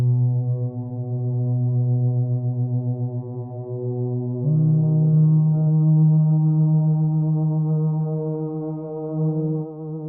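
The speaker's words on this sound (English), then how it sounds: "That sounds even more interesting with the Soundtoys Primal Tap on it." A deep iZotope Iris synth drone run through the Soundtoys Primal Tap delay: a loud, sustained low tone with a wavering, pulsing texture that steps up in pitch partway through and carries on steadily to the end.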